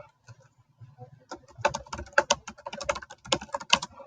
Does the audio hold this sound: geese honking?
no